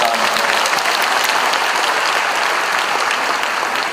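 Steady, loud audience applause at an Indonesian diaspora economic discussion event, a continuous dense clapping crowd with no pauses.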